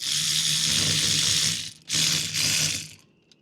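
A wrench tightens a battery terminal connection aboard a wrecked Prout catamaran, giving close ratcheting clicks in two bursts separated by a short pause before fading out.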